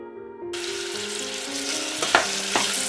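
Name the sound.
caraway seeds sizzling in a pan before adding onions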